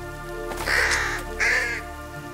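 A bird in the video game Mystery Detective Adventure gives two loud, harsh caws near a settlement's last buildings at a forest edge, each call raspy and drawn out, over a quiet steady ambient hum.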